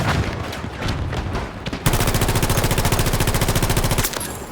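Rapid VHX gunfire in Battlefield 2042, with scattered shots first and then a loud, fast, evenly spaced automatic burst lasting about two seconds before it cuts off.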